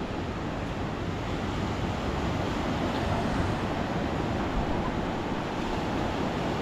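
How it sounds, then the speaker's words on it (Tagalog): Big ocean waves at sea wash and roar steadily, mixed with heavy wind buffeting the microphone, a continuous loud wash with no voices. "Malaking alon guys. Makikita nyo malaking alon."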